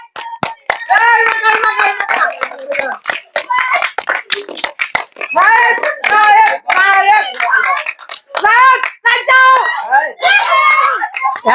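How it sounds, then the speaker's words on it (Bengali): Children clap their hands at a fun game where a player wins a prize, sharp scattered claps ringing out close and loud amid continuous excited shouting and high-pitched children's voices throughout. "হাতের তালি দাও।"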